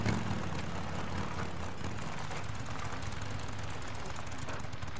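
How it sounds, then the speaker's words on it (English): A motorcycle engine in Days Gone idles with a low steady rumble, constant and fairly quiet throughout, heard alone without talking. "Motorcycle is ridiculously loud."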